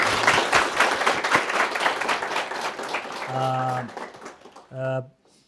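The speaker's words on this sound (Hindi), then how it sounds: "तालियां होनी चाहिए" A talk show audience bursts into sustained applause, many hands clapping loudly, fading out near the end as a voice briefly rises over it.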